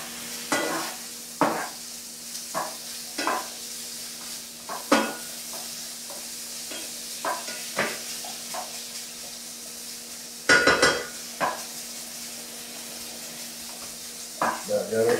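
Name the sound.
sausage browning and sizzling in a pan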